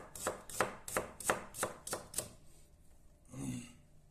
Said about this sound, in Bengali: আমি পেঁয়াজটা কাইটা নিতেছি, রসুন কাইটা নিছি, মরিচটা কাইটা নিছি